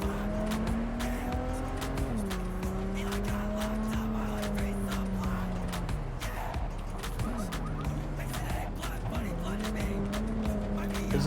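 Sports car driven in the video game Cyberpunk 2077, a steady loud engine drone whose pitch climbs and drops with gear changes and speed, with tire squeal, under ongoing talk.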